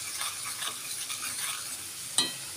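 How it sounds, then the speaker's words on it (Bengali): Neem and tulsi leaves frying in hot oil get stirred in a pan, a soft continuous sizzle with scraping stir strokes and one sharp clink near the end. "ভালো করে একটু নেড়ে দিলাম"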